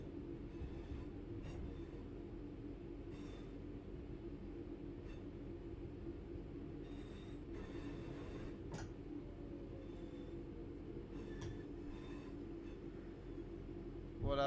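Train running on the Glossop line near Dinting station in Train Sim World 5, a steady low rumble of wheels on track with occasional clicks, continuous and moderately loud.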